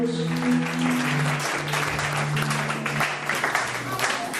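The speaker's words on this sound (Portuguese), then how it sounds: "Será que podemos aplaudir a palavra de Deus?" Church congregation applauding at a Portuguese–French bilingual sermon, a steady wash of clapping lasting several seconds while a sustained tone, likely music or voices, runs beneath it.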